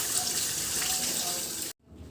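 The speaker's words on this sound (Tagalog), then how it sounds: "We will perform hand washing in order to deter the spread of microorganisms" Hands are washed under a steady stream of running tap water, a close, continuous gush that stops abruptly as the tap is turned off.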